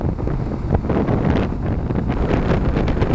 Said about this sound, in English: a lot of vibration, a lot of wind.